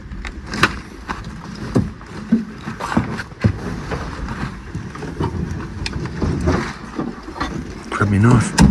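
A Quintrex boat runs across open water while gill netting, its hull slapping and wind rushing over a steady engine drone, with bumps and splashes throughout and people talking over the noise.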